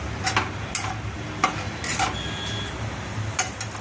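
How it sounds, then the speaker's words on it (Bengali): Whole garam masala spices temper in hot oil with a steady, close sizzle, broken by occasional sharp clinks of a utensil against the pan. "এবার আমি গরম মশলা ফোড়ন দিয়ে দিলাম"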